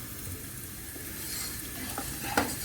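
Flour roasts in a pan for a mushroom soup base, a soft steady sizzle with faint scraping as it is stirred and a brief louder scrape near the end.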